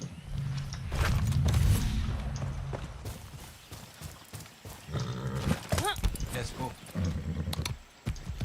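A horse in the Far Cry 6 video game clops its hooves in steady uneven steps and neighs at moments, mid-loud and close, with game sounds around it.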